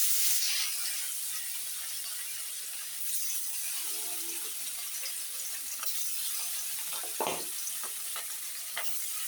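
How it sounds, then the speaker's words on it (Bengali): Rohu fish fry in hot oil in a wok, a constant bright sizzle close by, with an occasional scrape of stirring and no talk. "এই যে আমি মাছগুলো ভালোভাবে ভেজে নামিয়ে নিয়েছি।"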